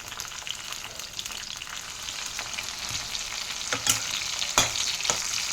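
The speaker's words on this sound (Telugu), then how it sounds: "మిర్చి ఇలా వేగిపోవాలండి." Halved green chillies fry in hot oil for a raw tomato pickle, a close, steady sizzle with scattered sharp spits and pops growing louder toward the end.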